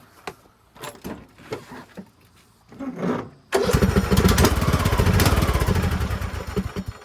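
A free Craftsman riding mower that needs its carburetor cleaned fires up with a sudden loud, steady engine roar after a few clicks and sputtering cranking attempts, then runs on alone at close range.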